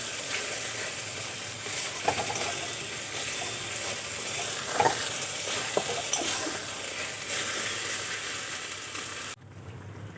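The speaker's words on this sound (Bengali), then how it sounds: "টমেটো, কাঁচা লঙ্কা আর আদা বাটা দিয়ে দেব। মিশিয়ে আরও ভালো করে আমি কষিয়ে নেব।" Tomato, green chilli and ginger paste masala frying in a pan, a dense steady sizzle with occasional spoon scrapes and taps while being stirred, cutting off abruptly near the end.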